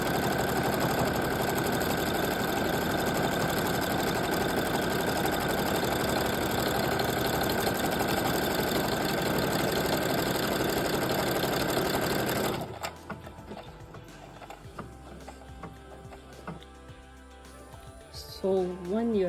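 Sewing machine with a buttonhole foot stitches a buttonhole in a steady, fast mechanical whir lasting about twelve seconds, then stops abruptly, leaving quieter handling noises and someone talking.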